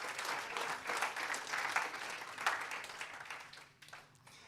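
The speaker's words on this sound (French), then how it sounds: "ça vaut un applaudissement" Congregation applause during a French-language Christmas sermon, moderately loud, dense clapping that gradually tapers off and fades in the last second.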